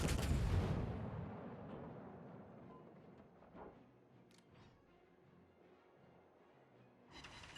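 Warship naval artillery in the World of Warships video game: a loud opening cannon blast that fades into a long rumbling tail, then a few faint distant impacts, with a brief crack near the end.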